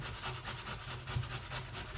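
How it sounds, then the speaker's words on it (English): A potato is grated by hand on a grater, producing close, steady rasping strokes that repeat rapidly and evenly without talk. "So I grate the potato like this"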